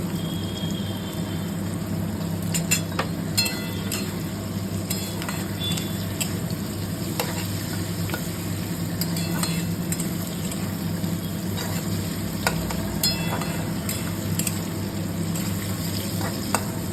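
Cashews and raisins frying in a pan with boiled carrot and cauliflower on a gas stove, a soft constant sizzle dotted with frequent light clicks and taps of stirring, no talk.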